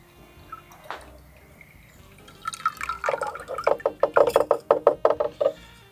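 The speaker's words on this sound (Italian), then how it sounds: "Qui ho preparato il nostro innaffiatoio e andiamo a versarli." Water steeped with crushed eggshells is poured into a watering can, starting with a few scattered drips and splashes, then turning into a louder run of rapid, rhythmic gurgling splashes close by.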